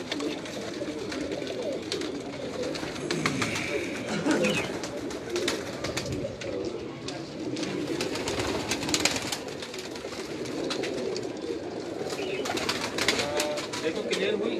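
Large silky pigeons coo repeatedly on a Karachi rooftop, close and steady, while people talk over them throughout.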